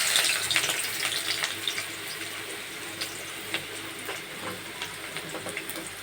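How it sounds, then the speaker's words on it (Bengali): Onions frying in hot oil in a kadai, a steady close sizzle with light crackles and faint scraping, strongest at the start then settling to a softer continuous hiss. "কড়াইটা গরম হয়ে গিয়েছে, এখন দিয়ে দিব পেঁয়াজ।"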